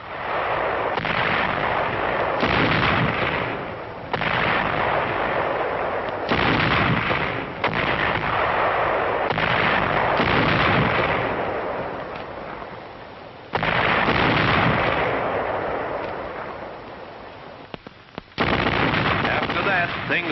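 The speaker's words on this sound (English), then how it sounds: "The nights were often very warm for February, when a high-trajectory artillery duel was on." A World War II high-trajectory artillery duel with division and corps guns trading fire against Japanese positions on a warm February night, heard as a steady run of heavy booming bursts and rumbling gunfire on a muffled, band-limited old recording.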